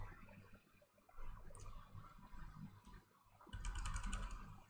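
Computer keyboard keys pressed rapidly in fast, uneven bursts while playing the rhythm game osu!mania, with a shirt stuffed under the keyboard, close and fairly quiet, with no talking.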